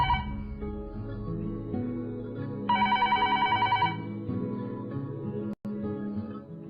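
A telephone rings with a bright, repeated trilling burst partway through, sitting over a soft musical score in a domestic scene, no one speaking.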